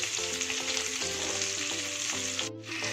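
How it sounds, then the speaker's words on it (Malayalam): Chicken pieces for dynamite chicken frying in hot oil: a loud, steady, close sizzle that continues throughout, with a faint tonal hum underneath and a brief dip near the end. "അങ്ങനെ നമ്മുടെ ചിക്കൻ ഒരു ഭാഗം റെഡി ആയിട്ടുണ്ട്, ഫ്രൈ ആയിട്ടുണ്ട്."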